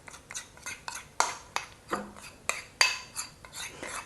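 A silicone spatula scrapes and taps rhythmically around a bowl while dark chocolate is stirred into a vegan mousse mixture, about a dozen close repeated strokes with no talking.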